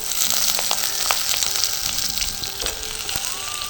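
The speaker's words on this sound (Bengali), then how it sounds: "আলু আর কচুটা একটু প্রথমে ভেজে নেবো।" Cut potatoes and taro fry in hot oil seasoned with whole cumin and dried red chillies, a steady close sizzle and crackle with occasional stirring clinks throughout.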